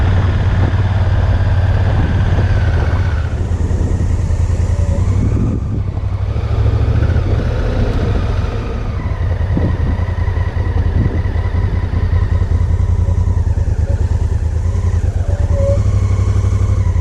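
An adventure motorcycle engine runs continuously and close throughout, a steady droning rumble with slight rises and dips as the bike rides along.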